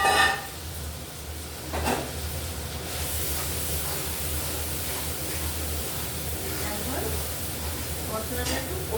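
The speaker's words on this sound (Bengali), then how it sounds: "মশলাটা তেলের মধ্যে দিয়ে দিয়েছি" Spice paste frying in oil for pabda fish jhol gives a steady, fairly loud sizzle with a few utensil knocks near the start and end.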